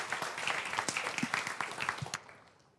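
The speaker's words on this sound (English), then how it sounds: "Let's give a warm round of applause" A conference audience claps after a talk, a burst of many hands with sharp individual claps standing out, fading away quickly near the end.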